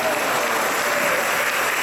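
Clapping from a church congregation during a Mass celebrated by Padre Danilo: a short burst of dense, steady applause filling the space, loud and uniform throughout.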